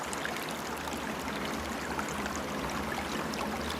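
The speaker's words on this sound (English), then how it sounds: "I will also thoroughly wash my jar with running water from my sink." Steady running water from a kitchen sink tap pours continuously while a glass kombucha jar is washed, a close, even rushing flow with no speech.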